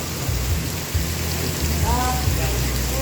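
Steady rain pours down in a continuous loud hiss, with a low engine rumble underneath and a faint chirping tone partway through.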